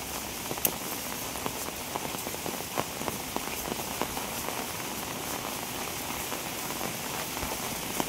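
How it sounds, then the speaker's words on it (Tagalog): Heavy rain pouring down in the Philippine countryside, a dense, steady hiss of drops drumming on surfaces with scattered sharper patters, continuous and close. "Biglang bumuhos yung ulan"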